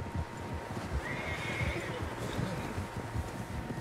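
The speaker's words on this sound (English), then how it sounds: "Horses, quite a few of them." A horse whinnies at a middle distance in Red Dead Redemption 2 over a steady rumble of many horses' hoofbeats and shuffling movement, with no talking.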